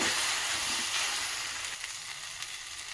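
Okra sizzles in a hot pan with lemon juice, a steady broad hiss that is loud at first and eases slightly, with no voices over it.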